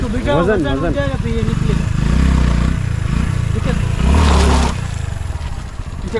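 A motorcycle engine revs and labours, loud and close, while the bike is stuck on rocks on a steep rough uphill track in Balochistan, with people talking over it.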